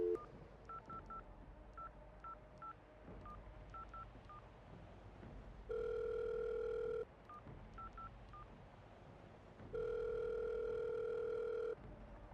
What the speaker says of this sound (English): dialed your boss's phone